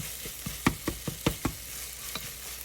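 Food that was once slimy is cooking in a pan under a faint sizzle, with a series of regular soft scrapes and taps as it is stirred, close and fairly quiet.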